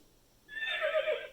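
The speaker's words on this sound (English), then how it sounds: "The horse likes to eat hay and can run very fast." An electronic horse whinny plays from a VTech Touch and Learn Activity Desk toy on a farm-animal page. It is one short, bright neigh, alone and close, with no voice over it.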